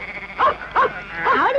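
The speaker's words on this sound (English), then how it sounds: "Our little Bingo's having a lovely time playing with those sheep" Sheep bleating in a field, three distinct wavering bleats in quick succession, fairly close and clear over a quiet outdoor background.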